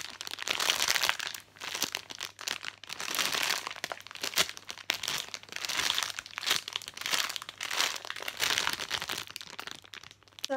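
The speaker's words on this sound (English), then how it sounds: "So I'm just gonna squish it in the bag first." A squishy penguin toy is squeezed inside a plastic bag, producing close, repeated bursts of crinkling plastic in uneven waves with short pauses between squeezes.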